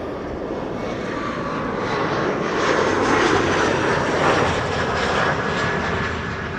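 A KLM Embraer 175 jet arriving at Amsterdam Schiphol Airport, its engines making a loud, steady roar that swells slightly as it passes and then holds.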